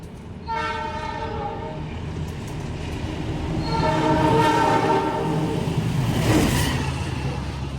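The Argo Wilis train passes near Maos station in Indonesia, seen from a KA Lodaya train, with rolling rail rumble and tonal horn-like blasts that swell and stay loud, and no talking.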